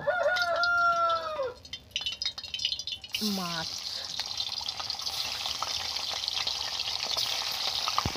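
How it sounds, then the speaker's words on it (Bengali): Fish frying in hot mustard oil in a wok gives a steady crackling sizzle, while a rooster crows loudly nearby at the start and talk is heard over the frying. "তেলটা আমার গরম হয়ে গেছে, এবার আমি মাছগুলো ভেজে নেব।"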